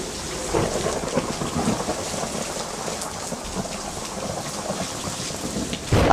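A heavy thunderstorm pours steady rain while low rumbling thunder rolls continuously beneath it. A sharper crack comes near the end, and no one speaks.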